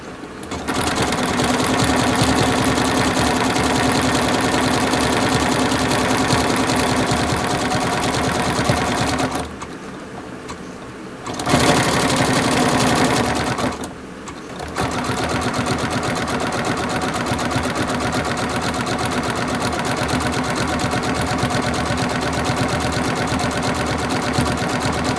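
A sewing machine stitches thick craft cord, coiling it into a bowl shape, running in a steady loud whir that breaks off twice for a few seconds before carrying on without talk.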